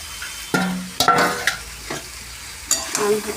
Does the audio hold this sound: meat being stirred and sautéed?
yes